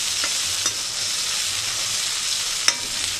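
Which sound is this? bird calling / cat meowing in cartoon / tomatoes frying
tomatoes frying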